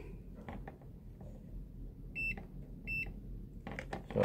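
A continuity tester's buzzer sounding during checks on a high-power 80 kW inverter with a battery charger, giving two short tonal beeps a little apart over low workshop hum, then faint clicks near the end.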